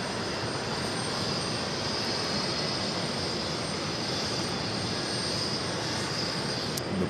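A jet airliner rolls along a taxiway at JFK airport, its engines giving a steady, broad roar with a high whine on top that holds even throughout, heard from some distance. No voices.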